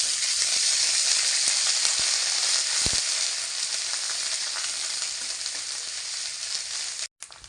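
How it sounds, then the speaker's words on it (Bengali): Ground onion paste fries with ginger and garlic in hot oil for a fish curry, giving a strong, steady sizzle close by with a few soft stirring knocks before an abrupt cut near the end. "এখন আমি বেটে রাখা পেঁয়াজ দিয়ে দিচ্ছি।"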